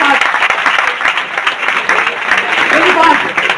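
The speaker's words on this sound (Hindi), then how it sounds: "इन सब लोगों के लिए एक बार जोरदार तालियां होनी चाहिए।" Audience applause at a training seminar, a dense, steady wash of many hands clapping close by for a few seconds, with no voice standing out.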